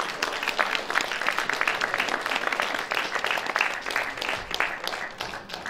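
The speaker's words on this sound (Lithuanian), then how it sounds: "Plojimai direktoriai" Audience applause at a folk music band festival evening, steady dense clapping from a crowd filling the whole stretch, fairly loud and continuous with no voices on top.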